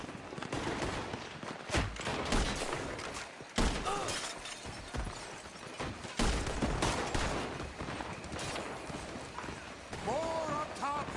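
Rapid volleys of gunfire crack and echo through a Red Dead Redemption 2 shootout, loud and continuous with scattered sharper bursts, while voices talk over the din.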